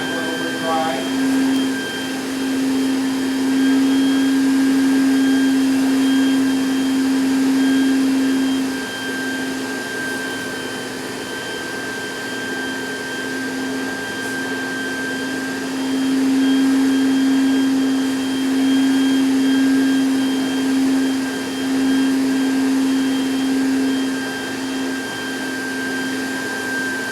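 A NaceCare TP18SX floor-cleaning machine runs with its wand open, vacuuming a floor dry, giving a loud, continuous whining drone that swells and eases over nearly half a minute.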